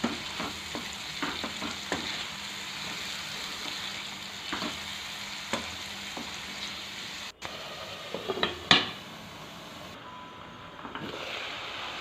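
Raw prawns for prawn curry cook in a pan, giving a continuous close sizzle with scattered clicks and scraping knocks, and a short gap and shift near the end; no one speaks.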